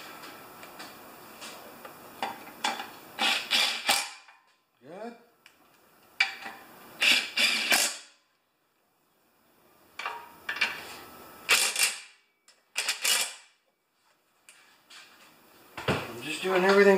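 Metal clicks and ticks from tightening bolts on a Craftsman 6HP lawn mower engine, coming in short clustered bursts separated by pauses, close by, with someone speaking at intervals.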